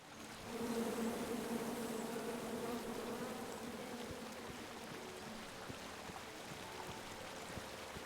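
Bees buzz in a steady droning swarm in the King's Quest video game, a layered hum that swells in near the start and then holds at a constant level with no voices over it.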